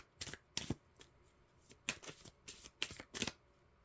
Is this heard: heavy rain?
no